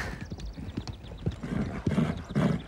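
Horse hooves clip-clop in a steady, uneven rhythm of sharp knocks, fairly close, with a brief whinny-like tone early on and no talking.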